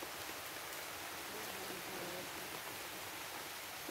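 Rain falls steadily outdoors in the open, a dense even hiss with no breaks, heard at moderate distance without any voices.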